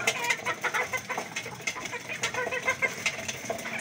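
Chickens, fighting cocks among them, cluck and chatter busily at close range while being fed in the rain, with scattered flaps and a steady hiss of rainfall beneath.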